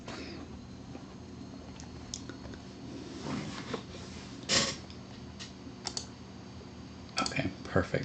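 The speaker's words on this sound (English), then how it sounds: "I love that you can hear me typing" Keys on a computer keyboard being typed on in a quiet room, scattered clicks and short bursts of keystrokes, fairly close and soft.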